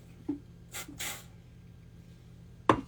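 Two short bursts of hairspray hiss up close from an aerosol can, one brief and one slightly longer, followed by a small sharp knock.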